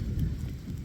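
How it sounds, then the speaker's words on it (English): Low rolling thunder rumbles under light rain on a stormy forest hike in Kentucky, a soft continuous patter over a deep, faint growl lasting under a second. "there is quite a bit of thunder rolling"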